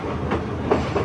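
A train reversing at Maho Junction, a steady loud rumble of rolling wheels and carriages with faint rhythmic clatter, close by and continuous, with no talking.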